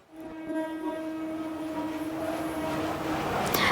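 A Naihati local train at Dum Dum Junction, platform 1, blows a sustained horn close by over a rising, steady rumble of the train on the tracks.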